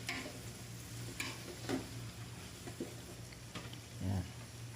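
Sliced beef frying in a pan for beef ampalaya, stirred with a few scraping clatters over a steady low sizzle.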